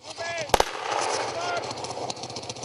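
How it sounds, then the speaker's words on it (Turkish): A quick pair of loud gunshots rings out at a cadet shooting practice during international cadet leadership training, followed by a steady voice talking over background noise. "atış talimine katıldı"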